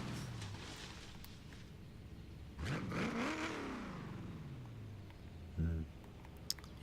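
A Ford F100 truck fitted with a twin-turbo 6.2-liter V8, driven in the racing game Forza Horizon 3, revs up sharply, climbs and then falls away, followed by a brief second burst, under light game background.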